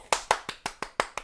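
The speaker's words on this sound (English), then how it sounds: "round of applause" Seven separate sharp claps in a steady, even rhythm, close and fairly loud with brief decays between them, rather than a dense crowd ovation; no voices.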